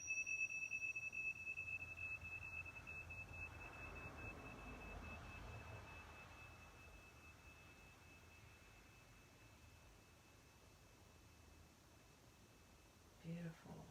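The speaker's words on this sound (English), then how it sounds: "I want to start off by ringing our chimes and setting the vibrational frequency for the reading." Chimes ring to open a spiritual tarot reading, a pure sustained tone with a second higher one, briefly pulsing, then a single note lingering and slowly fading in a quiet room.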